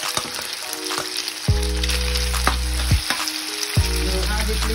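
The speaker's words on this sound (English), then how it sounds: "we fry until it gets brown." Beef and vegetables fry in a pan for a stir fry, with steady loud sizzling and a few sharp clatters as the food is stirred, and nobody talks.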